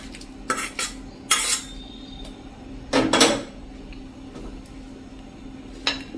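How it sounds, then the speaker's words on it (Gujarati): A spoon scrapes and clinks against a pot of boiled field beans in several short, separate strokes, fairly close, with quiet pauses between them. "હવે એને આપણે આ રીતે હળવા હાથે મિક્સ કરી લેશું"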